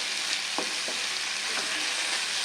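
Figs sauté with spices in a pan for a vegetarian dish, giving a constant close sizzle with a few quick spoon scrapes as they are stirred.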